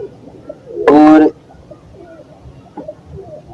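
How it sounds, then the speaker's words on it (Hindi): Pigeons eating scattered grain give a brief, loud burst of cooing and bird calls lasting about half a second, set against quiet background sound, with a short word spoken nearby. "हमारे सारे कबूतर तकरीबन दाना खा रहे हैं।"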